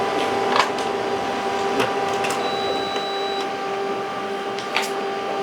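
Laser printer with white toner printing on paper bag media, a steady mechanical hum and whir with periodic clicks and feed clunks, close and alone.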